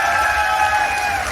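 Audience at a 25th anniversary celebration applauds to welcome a guest, a short, dense wash of clapping heard alongside a sustained tonal hum.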